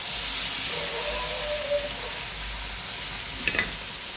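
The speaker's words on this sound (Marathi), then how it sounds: "आता थोडीशी मोहरी टाकूया। तडतडायला लागल्या।" Mustard seeds crackle and sizzle in hot oil with a spiced masala paste of green chilli, ginger, garlic and coriander, a steady close frying hiss with a few sharper pops near the end.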